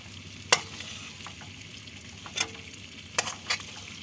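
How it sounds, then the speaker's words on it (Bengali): Prawns sizzle steadily in hot oil as a utensil scrapes and stirs the pan in a few sharp clinks, close and without talk. "চিংড়ি মাছ কিন্তু ভাজা চলছে, ফুটছে চিংড়ি মাছ।"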